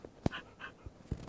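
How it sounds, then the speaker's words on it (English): A dog in the video game Craft Palace Pro gives a few short, quiet barks and yips, spaced irregularly over a second, with no talk. "We need to tame a dog."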